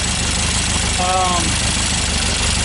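An engine idles, running slightly rich after a carburettor accelerator pump adjustment. The idle is a steady, loud, close drone with a brief voice-like tone rising over it midway.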